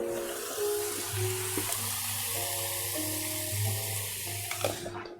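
Shrimp frying in butter in a pan gives a steady, close sizzle with a low hum running underneath and a few light clinks near the end.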